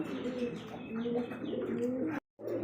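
Repeated soft coos from a red Bombai pigeon, close by and fairly steady, with a brief drop to silence near the end before the cooing resumes.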